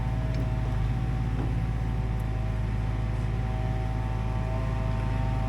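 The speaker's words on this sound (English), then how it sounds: "Damn leaf blower" A neighbor's leaf blower drones steadily and loudly in the background without a break, its engine hum constant throughout.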